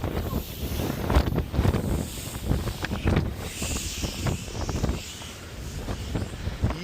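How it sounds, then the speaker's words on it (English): Strong wind buffets the microphone at the beach, a steady rushing roar with gusty surges and low rumbling throughout, and no talk. "It actually got a lot windier after lunch"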